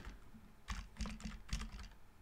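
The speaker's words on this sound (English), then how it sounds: "Oh, I keep typing the wrong thing." Quiet keyboard typing, a few quick clusters of key presses tapping in uneven bursts, close by with no talking.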